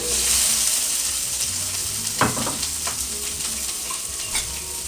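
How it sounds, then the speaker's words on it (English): Chopped onions and red peppers fry in a pan with a steady, close sizzle, broken by a few sharp scraping stirs partway through; no one talks. "I have some chopped onions, peppers, red onions, red peppers. So I'm gonna cook them first"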